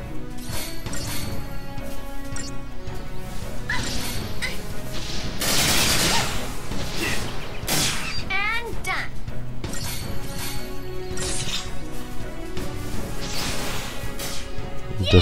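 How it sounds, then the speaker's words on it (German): Rapid bursts of gunfire and sharp impacts crackle through a chaotic Final Fantasy XIII battle, with whooshes and crashes mixed in and voices talking over the action. "Der letzte Schuss von Cess hörte sich jetzt richtig komisch an"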